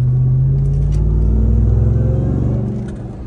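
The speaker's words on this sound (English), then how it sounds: "you'll be able to hear that HELLCAT whine" A Ram TRX pickup's supercharged Hellcat engine hums with a steady whine and low rumble, close and loud, easing off slightly toward the end.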